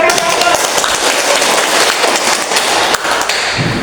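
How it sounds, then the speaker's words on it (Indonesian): A classroom of students applauds, a dense, loud wash of many hands clapping that holds steady for several seconds, close by and without clear talk over it. "Kita kasih aplaus."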